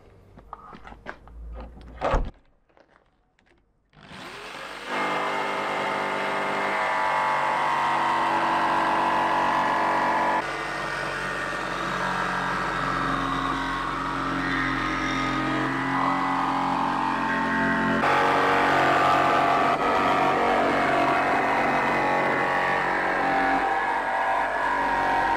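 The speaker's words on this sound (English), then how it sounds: "so I've got my jigsaw" A jigsaw fitted with a new metal blade cuts through the body panel of a Vauxhall Vivaro van. After a few short bumps it becomes a loud, continuous rasping buzz that runs unbroken for about twenty seconds, with slight shifts in pitch.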